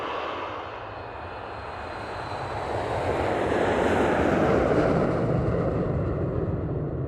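A United airliner taking off on runway 10 left, a broad roaring rush of jet engine noise that swells louder midway and holds steady, with no talk.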